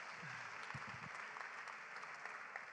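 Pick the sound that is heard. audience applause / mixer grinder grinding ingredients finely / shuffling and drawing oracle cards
audience applause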